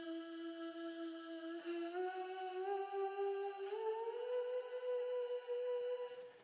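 A vocal chop run through a lo-fi drip effect in FL Studio, a sustained tonal voice-like note stepping upward in pitch in a few gradual glides, soft and washy with a wet, reverberant tail, heard alone.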